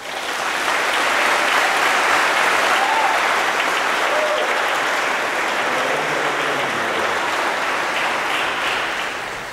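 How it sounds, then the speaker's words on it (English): A graduating class of 2019 applauds at their ceremony, a dense, steady wash of clapping from a large crowd that holds for the full stretch and slowly tapers at the end. "so give yourselves a round of applause"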